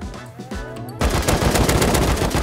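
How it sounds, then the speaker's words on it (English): Light machine gun fire in the survival game Rust: after a quieter opening second, dense sustained automatic bursts erupt and continue loudly to the end, with faint background game sounds beforehand. "Was that an LMG?"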